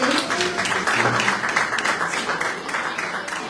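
Outdoor applause for children at a tree planting and dedication ceremony, a crowd of hands clapping in a continuous, fairly loud patter with some voices mixed underneath.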